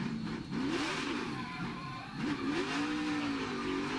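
NASCAR stock cars racing at Martinsville Speedway in the 2018 fall race, engines roaring loudly and continuously with rising and falling pitch as cars pass close by, accelerating out of the turns.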